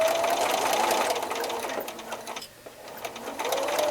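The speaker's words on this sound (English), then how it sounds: "I'll be over at the sewing machine and I'll show you sewing around this" A sewing machine stitches steadily along the piping cording of a pillow, its continuous whirring run briefly slowing and dipping midway before resuming at full speed, close and alone.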